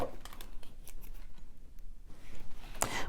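Snips of scissors cutting a length of 22 gauge German style bead-along wire for earrings, a few quiet clicks spread across the clip with one sharper cut near the end.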